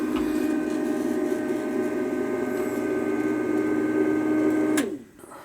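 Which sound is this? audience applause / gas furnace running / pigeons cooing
gas furnace running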